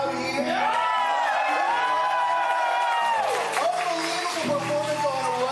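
A live audience at a performance cheers and whoops behind a singer's voice and backing music. The crowd noise holds steady under the melody throughout.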